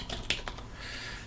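Close typing on a computer keyboard while entering text in a Linux app setup: a few quick, crisp clicks of keys in an uneven burst, then quieter room noise, with no voice.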